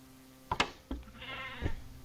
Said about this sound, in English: Goats. I never really like hearing goats.